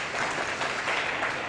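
Brief, dense applause from a conference audience at a One Health gathering for Horn of Africa universities, a steady wash of many hands clapping with no talk.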